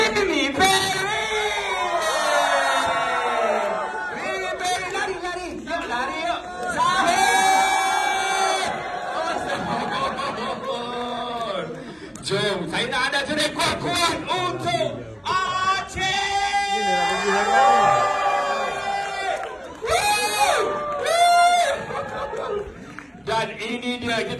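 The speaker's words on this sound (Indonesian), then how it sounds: "jom-jom kita jerit kuat-kuat" A crowd cheers, whoops and shouts at a film premiere for the Malaysian film Mat Tudung Begins, loud sustained bursts of many voices rising and falling over about twenty-four seconds, with an announcer's amplified voice urging them on.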